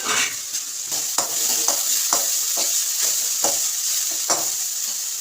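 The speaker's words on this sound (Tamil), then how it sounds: "நல்லா ஒரு குழி கரண்டி எண்ணெய் ஊற்றிக்கணும் வெங்காயம் போட்டுக்கணும்" Onions with cinnamon, cloves, mace and nutmeg frying in a generous ladle of oil, a steady close sizzle broken by repeated scraping stirs of a spoon in the pan, with no talking.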